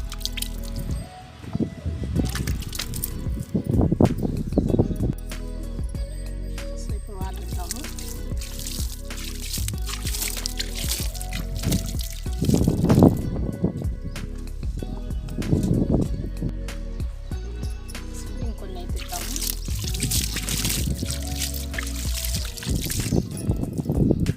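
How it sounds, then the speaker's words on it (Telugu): Water pours and drips onto seedlings in a terrace garden, a steady wet splashing that runs throughout with brief louder gushes, while a voice talks intermittently over it. "ఇప్పుడైతే వాటర్ అయితే ఇస్తున్నా"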